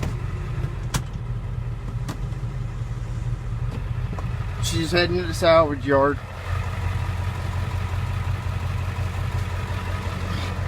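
A 7.3 box truck engine idles with a steady low diesel rumble throughout, while a person speaks briefly over it midway.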